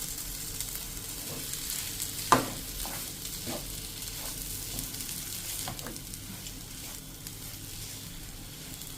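Potato masala sizzles steadily as it roasts in a pan, with a soft continuous frying hiss and occasional clicks and scrapes of stirring, one sharper tap standing out early.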